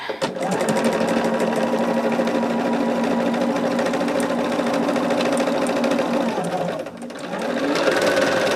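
A sewing machine runs steadily and close by, its fast mechanical whir continuous with a brief slowdown near the end before picking back up.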